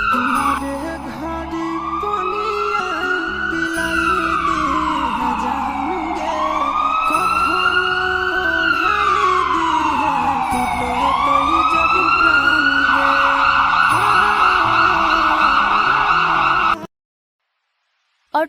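An ambulance siren wails in a Hindi animated cartoon, its rising and falling tone sweeping repeatedly and loudly for about seventeen seconds before cutting off abruptly into silence.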